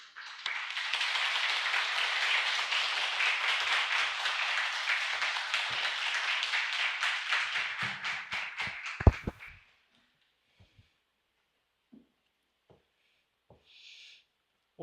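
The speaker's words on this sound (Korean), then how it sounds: "기쁜 환영의 박수를 부탁드립니다." A church congregation gives warm applause to welcome a visiting missionary pastor, dense steady clapping for about nine seconds that dies away into near silence broken by a few faint thumps and shuffles.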